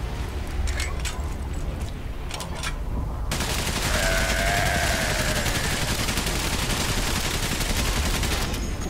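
Machine gun fire from the video game Valiant Hearts rattles in dense, continuous bursts, loud and near, with a sharper stretch of rapid shots before the barrage thickens and faint game tones layered in.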